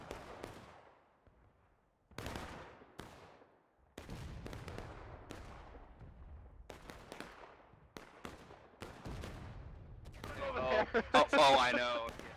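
Booming artillery and scattered gunfire from a Civil War battle in the game War of Rights, sharp blasts and reports spaced through the clip, some distant, with voices talking over the fighting.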